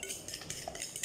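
A spoon stirring banana cake batter in a bowl, giving quick, light clinks and scrapes in a steady rhythm, close and fairly quiet.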